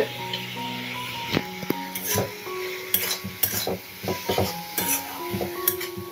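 Ground cumin and coriander being stirred and scraped in a metal pot during a village duck curry, with repeated close scrapes and light clinks over a soft sizzle.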